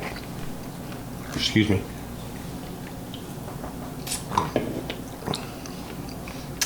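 Someone eats Lance Premium Whole Cashews, with soft crunching bites and wet chewing in short bursts close to the mic, mixed with quiet talk.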